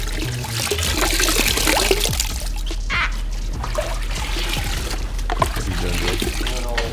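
Water running and splashing steadily while a car is hand-washed at a window tinting and paint protection shop, a continuous trickling hiss with intermittent splatters, close by under faint background sound.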